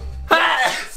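A single sharp, explosive cough or sneeze from a person after pepper irritated their nose, loud and close, following a brief low hum and cut off by another burst at the end.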